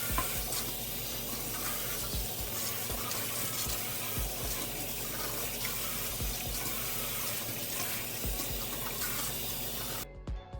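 Water runs steadily from a tap while a wig is rinsed out by hand, a constant splashing rush with small irregular splatters, close and unbroken until it is cut off just before the end.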